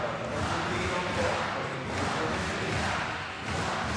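A basketball crowd at a Philippines vs Latvia fourth-quarter game cheers on its feet: a steady, loud roar of arena noise for the whole stretch, with a commentator's voice running over it.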